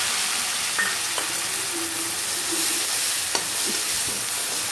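Ground onion, garlic and chili paste fries in a pan with a continuous, close sizzle, broken by a few scraping stirs of a spoon against the pan.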